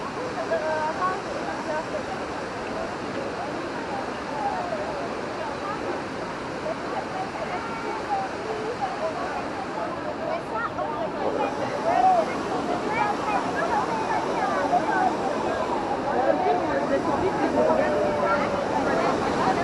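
The river Amblève flowing near the waterfall at Coo, Belgium, a broad, steady rush of water that stays loud and even from start to finish.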